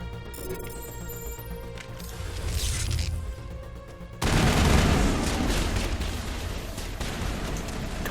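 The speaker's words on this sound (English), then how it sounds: "We're being sniped at" Sniper fire and other gunfire in the video game Mass Effect, with dense, noisy blasts over game sound and a sudden loud, heavy burst partway through that stays loud to the end.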